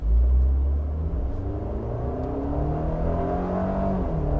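Low, rumbling engine of a 2022 Nissan Xterra SUV drones and slowly climbs in pitch as it revs up, close and steady without voices.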